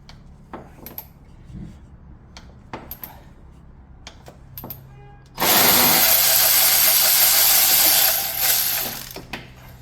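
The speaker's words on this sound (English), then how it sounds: "Use it as a ratchet." A ratchet wrench works on an Audi A3 during a timing belt replacement, giving a few short clicks early on, then a loud, steady mechanical whir of several seconds close up, with no talk.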